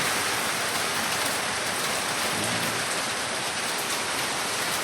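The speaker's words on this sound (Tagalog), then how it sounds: "Simula pa kagabi magdamag pong umuulan." Steady overnight rain falling continuously, a dense even hiss of drops on surfaces with no voices, constant in level throughout.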